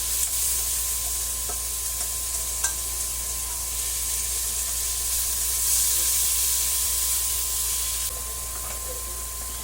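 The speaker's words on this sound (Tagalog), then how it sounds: "Gisa po natin ng maigi." Chopped tomatoes sautéing in a hot pan for an ampalaya dish, a steady bright sizzle and hiss with occasional stirring scrapes, close and even throughout.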